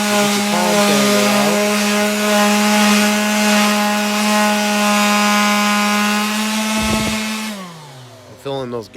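A palm sander on a wooden faux beam gives a loud, steady high-pitched motor hum with buzzy overtones for about seven seconds, then winds down with a falling pitch.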